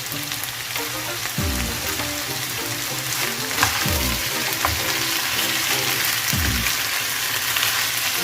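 Beef stir-frying in a pan for a Korean-style bok choy dish gives a constant bright sizzle, with a few low clanks of stirring recurring every couple of seconds; no one talks.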